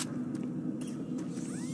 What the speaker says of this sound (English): Open bay door.